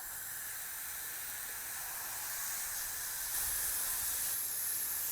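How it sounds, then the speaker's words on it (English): Garden hose sprayer on its shower setting washing a home air conditioner coil, a steady close hiss of spraying water that swells slightly toward the end, with no speech. "So I got my garden hose sprayer setting on shower,"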